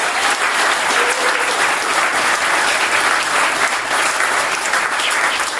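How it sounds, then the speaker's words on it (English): An audience gives sustained applause for Franz and the Tesla team, steady dense clapping from a large crowd that continues without a break. "A big applause to Franz and all the"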